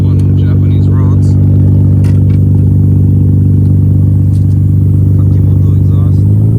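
A 2001 Nissan Skyline GT-R R34 V-Spec II fitted with a Kakimoto exhaust runs at a steady idle, a loud, close, even rumble that holds constant throughout with small clicks and noises on top.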